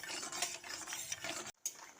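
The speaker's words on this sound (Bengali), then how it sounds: "দেখুন হাই হিটে বড়িটাকে লালচে করে ভেজে তুলে নিচ্ছি" Lentil dumplings (bori) fry in hot oil over high heat, giving a steady, fairly faint sizzle with light stirring and utensil scrapes, broken by a brief silent gap.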